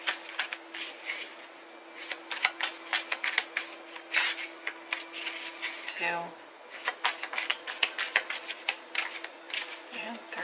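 Tarot cards riffled and shuffled in quick, rapid bursts of crisp flicking close to the mic, with someone speaking briefly in the middle and a steady low hum underneath.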